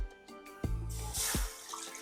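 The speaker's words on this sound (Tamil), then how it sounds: "ஒரு கடாயில் ரெண்டு கப் அளவுக்கு தண்ணி ஊற்றிடலாங்க" Two cups of water are poured into a kadai (wok) for cooking vermicelli, a brief, quiet, close splashing pour with a few small knocks.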